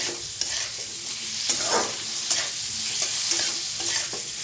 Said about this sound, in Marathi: फुलगोबी भाजायचं छान असं तेलात.